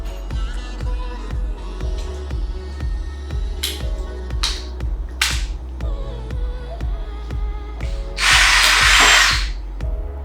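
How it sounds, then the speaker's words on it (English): A power drill with a small bit whirs steadily with a rhythmic pulsing, close by, marking a hole in a hula hoop before a larger bit, ending in a louder, brighter burst of grinding near the end. "I like to mark it out with a smaller drill bit"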